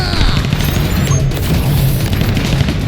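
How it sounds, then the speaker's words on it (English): A flashbang grenade detonating in the shooter video game XDefiant, a loud booming blast with dense crackling gunfire-like noise filling the whole moment, no speech over it. "Flashbang out!"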